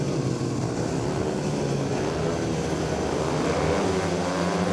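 Speedway motorcycles rev loudly and continuously at the start of heat 14 of an Ipswich Witches versus Leicester Lions premiership final meeting, a dense engine roar that holds steady throughout with no speech.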